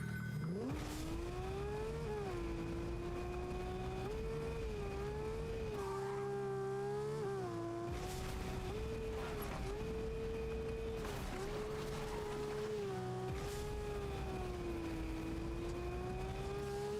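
A car in the Fortnite video game, its engine droning steadily with rising and falling pitch as it shifts and revs, continuous and fairly close, with occasional brief bumps and squeals.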